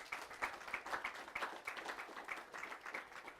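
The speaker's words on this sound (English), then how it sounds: "please, a round of applause for him." Scattered clapping from a small audience, fairly faint and uneven, with individual claps standing out in a loose rhythm.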